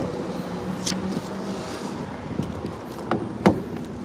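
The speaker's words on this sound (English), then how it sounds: "This is what blasting your AC for 10 hours straight sounds like." A car idles steadily with its air conditioning blasting after running for hours. A low hum and rushing fan hiss carry under a few faint clicks and knocks. Nobody speaks.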